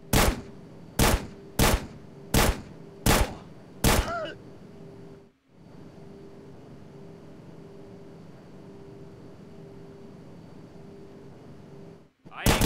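Gunfire in the video game GTA San Andreas: six sharp, evenly spaced loud shots in quick succession, then a low steady engine-like drone with a brief dropout and one more burst at the end.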